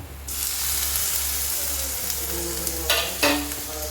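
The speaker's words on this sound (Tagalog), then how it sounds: "Igisahin ko siya guys" Bean sprouts sizzle and fry steadily in a hot pan for toge, with stirring scrapes and a couple of louder clatters near the end; no voices.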